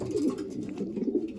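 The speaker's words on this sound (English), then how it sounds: "That's the ace pigeon." A racing pigeon gives a soft, low cooing call close by, rolling continuously for a moment with no speech over it.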